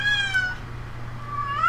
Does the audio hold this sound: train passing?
no